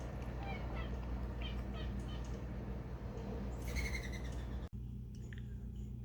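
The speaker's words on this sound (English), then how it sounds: "Brave bird." A bird nesting among garden flowers gives a few short chirping calls, with a clearer burst of calls toward the end over faint background hum, and a person speaking quietly.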